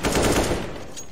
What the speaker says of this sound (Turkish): İkimiz aynı anda silah mı sıktık